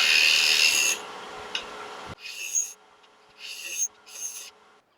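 A scraper cuts a spinning wooden piece on a woodturning lathe, giving a loud, steady rasping scrape for about a second, then three shorter, quieter scraping passes after a pause.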